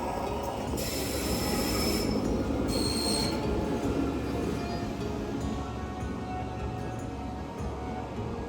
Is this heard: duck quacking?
no